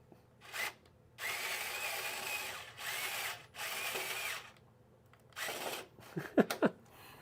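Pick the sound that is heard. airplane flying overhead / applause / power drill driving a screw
power drill driving a screw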